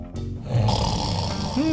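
A cartoon-style snoring sound effect imagined as the Earth snoring, a loud, low rumbling snore filling the short moment with a rising tone near the end.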